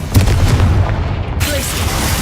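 The Confringo fire spell exploding in the video game Hogwarts Legacy, heard as a loud booming blast with crackling burst that fades into a dense rumbling tail.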